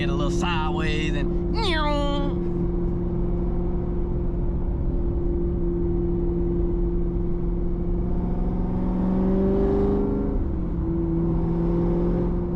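Cammed Corvette Z06 with a 3-speed manual pulls hard under acceleration, a loud steady engine drone with rising pitch that shifts near the end, heard from inside with brief talk over the start.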